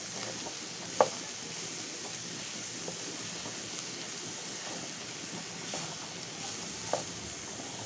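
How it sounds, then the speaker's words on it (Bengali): Kolmi greens frying in a pan with salt, stirred with a utensil: a faint steady sizzle with a few soft scraping clicks, a sharper one near the start and another toward the end. "লবণ দিয়ে এখন ভালো করে নাড়াচাড়া দিয়ে নেব"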